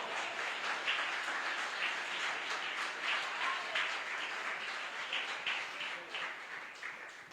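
Congregation applause during a church sermon, a steady, fairly faint wash of many hands clapping that holds evenly for several seconds before slowly thinning out.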